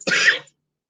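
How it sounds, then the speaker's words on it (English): A man gives a single short, rough cough and throat clear, close and brief, followed by silence. "Cough it out."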